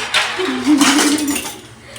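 Metal utensils and dishes clink and scrape together close up in a short burst of washing-up noise.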